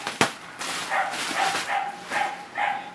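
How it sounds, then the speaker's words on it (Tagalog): A household dog barks in the background with a series of yipping, whimpering barks in an uneven rhythm, moderately loud and somewhat distant, after a sharp knock at the start. "Don't mind our dog in the background."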